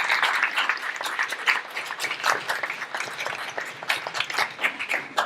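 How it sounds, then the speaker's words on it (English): A smaller audience at an entrepreneurs' evening talk applauds, the claps sparse and uneven, with distinct individual hand strikes rising and falling rather than a dense roar. "let's give a round of applause for all the entrepreneurs and new entrepreneurs in here tonight"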